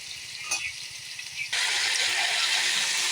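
Plantain and potato curry frying with chilli and cumin paste, a soft stir and clatter at first, then a loud, dense sizzle that bursts in halfway through as the vegetables hit the hot oil and carries on steadily.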